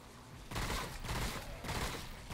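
Rapid gunfire rattles through a boss fight against the Canker in Remnant: From the Ashes, a loud, dense, continuous stream of shots that swells in bursts over about two seconds.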